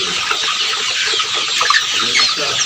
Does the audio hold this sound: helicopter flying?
no